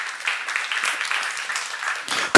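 Applause from a church seminar audience, a steady dense patter of clapping hands running throughout at moderate loudness with no voices over it, ending in a sudden louder burst.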